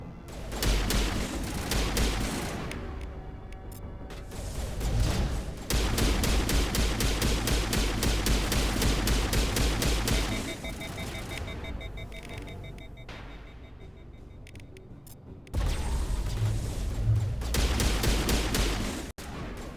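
Rapid bursts of automatic gunfire in the Mass Effect 1 video game, loud and sustained with short pauses between volleys, along with some mechanical game effects, no talk.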